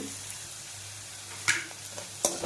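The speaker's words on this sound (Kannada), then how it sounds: "ನಾನಿಲ್ಲಿ ಒಂದು ನಾಲ್ಕು ಒಣಗಿದ ಮೆಣಸಿನ್ಕಾಯಿ ಹಾಕಿ ಫ್ರೈ ಮಾಡ್ಕೊಳ್ತಾ ಇದ್ದೀನಿ" Four dried red chillies frying in oil, giving a faint, steady sizzle with two brief crackling pops near the end.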